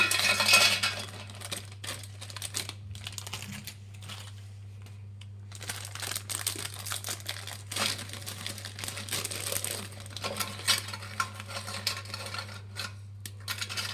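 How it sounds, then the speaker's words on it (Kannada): Parle-G biscuits crushed and broken by hand into a mixer jar, giving dry crinkling and crunching rustles in irregular bursts, close and moderately quiet, with a steady low hum beneath and no talk. "ಹೀಗೆಲ್ಲ ಕ್ರಷ್ ಮಾಡಿಬಿಟ್ಟು ಹಾಕಿ ಹೀಗೆಲ್ಲ ಮುರಿದಾಕಿ ಹಾಕಿ"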